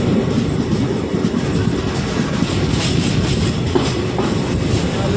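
A Ballari–Hosapete DEMU train runs at speed, a loud continuous rolling roar with rhythmic rail clatter and engine drone, close and steady throughout.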